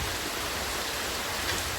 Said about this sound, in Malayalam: ഇന്ന് മഴ മാത്രമല്ല നല്ല കൊടും കാറ്റ് പോലത്തെ കാറ്റാണ് കേട്ടോ